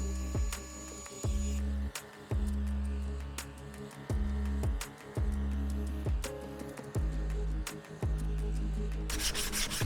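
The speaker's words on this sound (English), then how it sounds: "I've sanded off all the kind of high points and knobbly bits" Beer cask barrel wood is sanded for bar stools, with repeated scraping strokes about once a second over a low hum, close and steady, with no talk.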